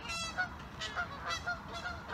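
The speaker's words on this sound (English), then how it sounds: "that's some geese" Several geese honk outdoors in repeated short calls at a moderate distance, with a steady background hiss between the honks.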